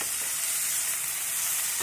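Beetroot and carrot frying in a covered pan for a creamy curry, giving a steady, close sizzle and crackle that runs evenly throughout with no talking.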